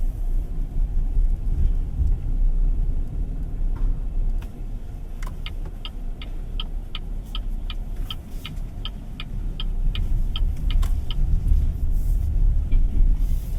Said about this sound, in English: that was a quick POV drive off the BYD Sealion 5